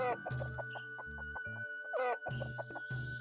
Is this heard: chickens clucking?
yes